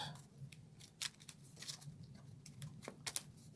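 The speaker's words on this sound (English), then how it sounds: "So let's get this deck shuffled up." A deck of cards for the Kingdom Legacy: Feudal Kingdom board game being shuffled, faint papery riffles and quick snapping flicks in irregular bursts, close and quiet.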